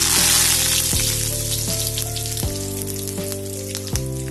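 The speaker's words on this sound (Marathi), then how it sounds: "तर मस्त तेल तापलं आहे, आता जिरे, मोहरी, कढीपत्ता टाकून घेते मी." Cumin, mustard seeds and curry leaves tossed into hot oil, a loud continuous sizzle and crackle that bursts at the start and slowly settles, with a few scattered pops, no talking.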